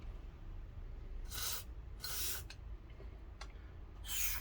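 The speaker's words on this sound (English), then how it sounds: "So always non-flammable contact spray." Short bursts of non-flammable contact cleaner spray hiss close by on a Kenwood KR-3200 stereo receiver's variable resistors, four or five quick blasts separated by brief pauses against a faint background hum.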